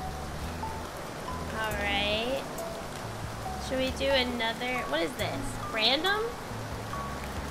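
Steady rain patters continuously in the Japanese-learning video game Shashingo, a soft, even hiss that runs beneath a person talking throughout.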